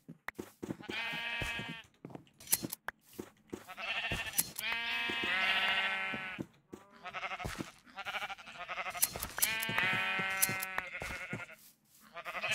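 Repeated sheep bleats from Minecraft, a run of wavering calls in several bursts across the clip, fairly close and clear with no talking over them, in a survival-mode sheep farm.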